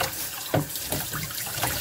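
Water runs from a tap inside a mobile home, a steady close rushing flow with small splashy variations throughout.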